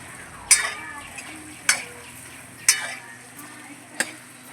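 Brinjal curry with tomato masala sautéing in oil in a pan over a wood-fired chulha, low sizzle under a few sharp scrapes and clinks of a spoon against the pan at irregular intervals, close up with no talking.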